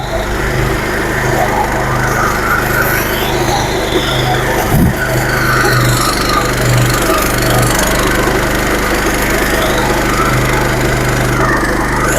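A stubble mower with a front wheel system runs in a field, its engine a loud, steady, unbroken drone that stays close throughout with no talk over it.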